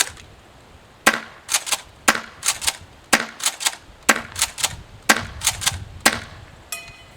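Airsoft M870 shotgun fired with an EPM adapter, sharp snapping shots in small bursts of two or three, loud and close with brief pauses between volleys.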